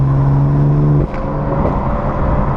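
A BMW M4 engine drones steadily under load with a strong low tone, then shifts abruptly about a second in as the pitch changes and the engine note continues loud and close throughout.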